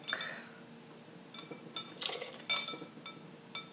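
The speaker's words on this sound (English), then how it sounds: "And then whisk it in." Milk being whisked into chocolate M&M cupcake batter in a bowl: soft, faint scraping with scattered sharp clinks of the whisk against the bowl, in irregular bursts.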